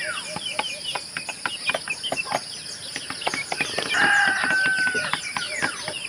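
Chickens and roosters at a small farm in the early morning cluck and call in quick, overlapping bursts, with one clear crow rising mid-way, over a steady high insect-like hum in the background.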